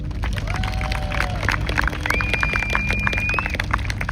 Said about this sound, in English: please join me in giving the living historians who are in the field another round of applause